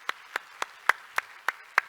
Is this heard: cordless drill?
no